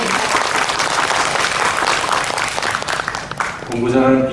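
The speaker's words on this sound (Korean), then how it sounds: "우리 권택환 교수님 큰 박수로 부탁드립니다" Loud, dense audience applause fills a parent training session at an elementary school, welcoming a professor, then thins near the end as a voice begins speaking over it.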